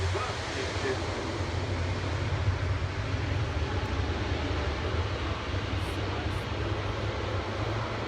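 A jet lands at Farnborough Airshow, heard as a broad, steady roar of engine and rushing air. It stays loud and constant throughout with no distinct voices.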